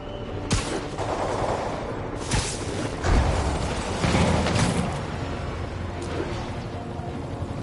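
Gunfire in the video game Marvel's Spider-Man: bursts of rapid automatic shots and sharp cracks crowd a busy combat mix, with several louder volleys around the middle and faint voices underneath.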